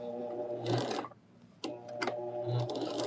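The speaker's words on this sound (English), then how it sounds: "we are going to stitch these together" A sewing machine stitching quilt pieces together with a quarter-inch seam, running in close, loud mechanical bursts with a brief pause in the middle before it starts stitching again.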